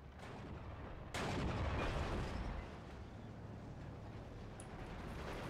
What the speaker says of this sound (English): Now we're shooting HE at that crocodile.